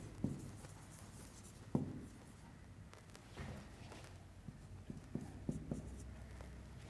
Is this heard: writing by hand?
yes